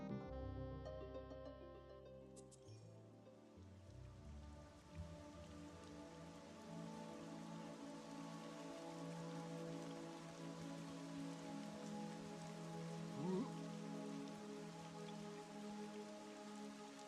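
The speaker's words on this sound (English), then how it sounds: "Looks like it just started raining." Steady rain hisses throughout a game scene in Monsters & Memories, a continuous even patter over layered ambient tones and soft music, with a brief rising chirp near the end.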